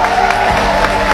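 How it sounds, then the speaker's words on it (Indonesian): An audience at a talk breaks into loud, continuous applause mixed with crowd cheering that fills the room for the whole moment. "Tepuk tangan Pak Aprial ya."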